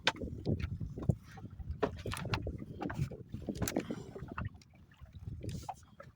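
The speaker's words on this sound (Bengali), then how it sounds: "নদীর ঢেউ হচ্ছে ভালো, হাওয়াও হচ্ছে" River waves slap and lap against a small fishing boat at Jharkhali while wind buffets past, making an uneven run of close splashes and knocks under steady breezy noise, with no talk.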